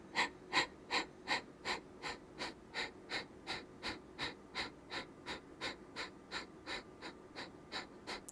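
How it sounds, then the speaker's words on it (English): Rhythmic Kapalabhati yoga breathing during a vinyasa flow: a steady train of about twenty sharp, forceful nasal exhales, evenly spaced roughly every 0.4 seconds, close and clear with no talking. "Kapalabhati breath."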